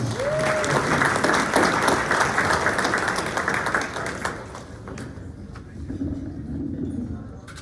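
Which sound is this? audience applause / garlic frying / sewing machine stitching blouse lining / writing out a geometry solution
audience applause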